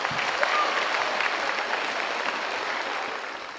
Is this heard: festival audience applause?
yes